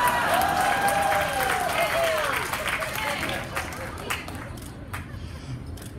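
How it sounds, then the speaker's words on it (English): Applause and cheering from a comedy pun competition audience, loud at first with whoops over dense clapping, then thinning and fading. "How about another round of applause for our"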